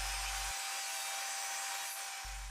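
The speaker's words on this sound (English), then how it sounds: "I cut the remaining pieces from what is left in my plywood sheets" A power saw cuts through plywood sheets in a workshop, a continuous loud rasping whine with a low motor hum that drops out briefly and returns near the end.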